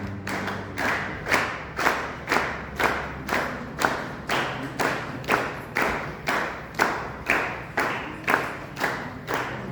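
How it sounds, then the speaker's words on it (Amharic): A church congregation at a wedding claps together in a steady unison rhythm, about seventeen evenly spaced beats over several seconds, with no talking. "በደንብ አጨብጭቡ።"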